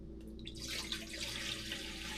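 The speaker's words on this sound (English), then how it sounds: "I'm going to go ahead and dump this water into this bowl." Water from a container dumped into a bowl while making French bread, a steady continuous splashing pour that stays fairly quiet and even throughout with no talking.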